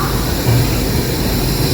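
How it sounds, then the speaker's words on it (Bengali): The New Delhi–Kalka Shatabdi Express pulls out of Chandigarh Junction after an eight-minute halt, giving a steady, loud low rumble and hiss of the moving train heard from inside, continuous and without voices. "8 মিনিট হল্টের পর ট্রেন ছেড়ে দিল"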